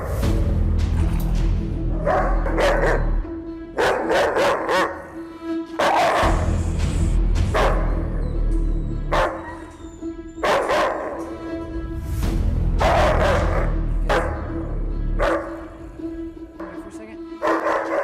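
A German Shepherd barks loudly and close by in repeated bursts of several sharp barks, with short pauses between them. A steady low hum runs underneath throughout.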